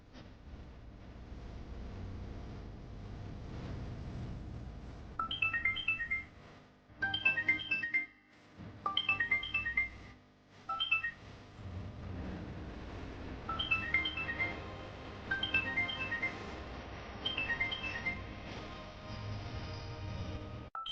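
A mobile phone rings with an incoming call, its electronic ringtone sounding in repeated bursts with short gaps over a low background hum, close and moderately loud, with no talk.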